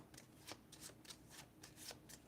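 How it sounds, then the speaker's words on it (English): Playing cards shuffled by hand for the Regicide card game, a quick series of crisp riffling bursts, close and fairly quiet, with no talking. "Shuffle up the jacks."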